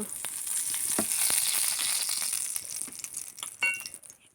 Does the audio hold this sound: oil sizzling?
yes